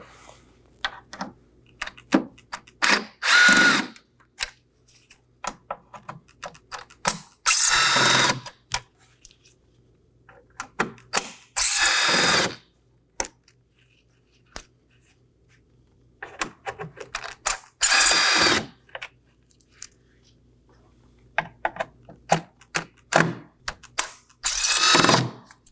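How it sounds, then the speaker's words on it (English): Power drill with a T15 Torx bit spinning out grille screws on a Chevrolet Equinox front bumper, repeated short whirring bursts separated by quiet pauses and small clicks and rattles. "We're going to go ahead and remove those now. I'll be using a T15 Torx bit."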